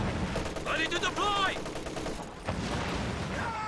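Bursts of MG34 machine gun fire in Company of Heroes 2 ring out as rapid, rattling volleys amid other battle sounds, with a voice talking over the action.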